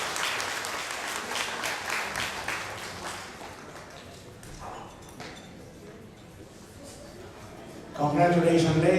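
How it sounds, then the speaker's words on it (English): An audience of seniors at a club fall social gives a warm round of applause that gradually thins out, and then a voice comes in over a loud burst of sound. "please give them a big round of applause"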